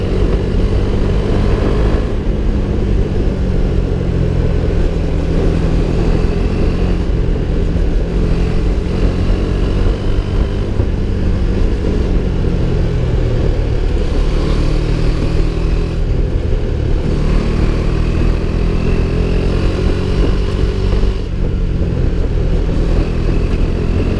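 A KTM Duke 390's 373 cc single-cylinder engine runs loudly and continuously with a low, throbbing rumble, its pitch rising and falling as it revs and changes speed.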